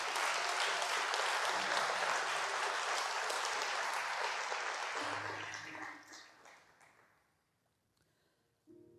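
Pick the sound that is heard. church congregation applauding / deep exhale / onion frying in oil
church congregation applauding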